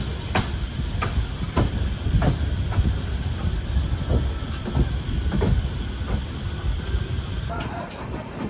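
Amrit Bharat Express train running on the tracks between Banaras and Jaunpur Junction, a steady loud rumble with periodic rail clicks throughout, heard from inside.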